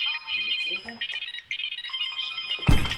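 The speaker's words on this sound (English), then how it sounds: "Somebody's calling. Somebody answer the damn phone." Telephone ringtone for an incoming live call chimes in short bursts over a noisy room, with a person speaking faintly in the background.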